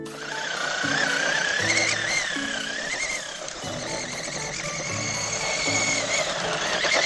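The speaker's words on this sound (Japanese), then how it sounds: "4輪ともスパイクタイヤに変えてみました。じゃあこれを走らせてみます。" An RC Grasshopper buggy fitted with spike tires on all four wheels drives along, its motor whining and wavering in pitch over continuous background music.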